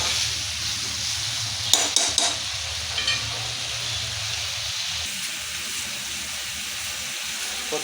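Chicken liver fry being stirred with pepper powder in a pan, a steady sizzle with a few sharp scraping clinks of the spoon, close and continuous.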